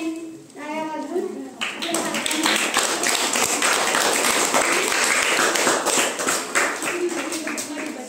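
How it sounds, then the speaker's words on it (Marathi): At a prize distribution function, a voice speaks briefly before the crowd bursts into brisk, sharp clapping that runs on for several seconds, close and lively, with talk resuming over the fading applause. "सर्वांनी टाळ्या वाजवून"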